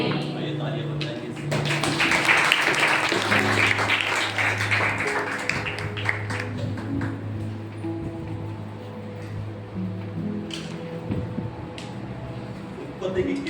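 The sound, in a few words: congregation applauding in church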